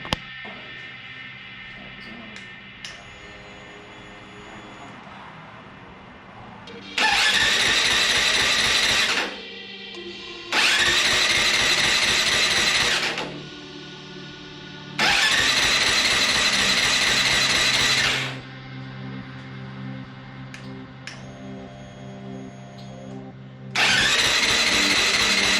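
A Honda CRF450L supermoto motorcycle engine cranks repeatedly without catching, with several loud, even bursts of starter whirring a few seconds each, separated by quieter pauses filled with a low hum.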